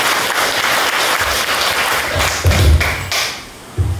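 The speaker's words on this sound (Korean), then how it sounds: "자, 다시 한번 뜨거운 박수 한번 부탁드립니다." Audience at a Buddhist lecture on the Lamrim applauds warmly, a dense burst of clapping from a crowd that continues for several seconds before thinning out at the end.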